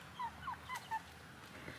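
Backyard chickens in a coop give a few short, soft clucks and chirps in quick succession, faint and close by in a quiet yard.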